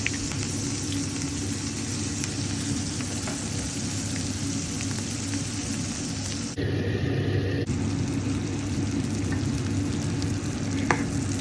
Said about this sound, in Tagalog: So pag matunaw na natong butter guys, dira na dayon nato ibutang ang atong onion.